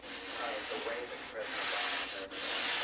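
A sanding block with 180-grit paper is rubbed by hand over finishing putty on an automotive body line, producing loud, close, continuous abrasive scraping in long strokes that pause briefly twice.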